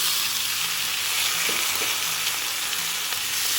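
Onions and tomatoes fry with dried red chillies in a pan, a dense, steady close-up sizzle with faint stirring scrapes, no voices.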